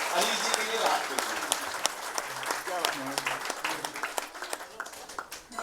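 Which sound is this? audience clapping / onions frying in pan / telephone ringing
audience clapping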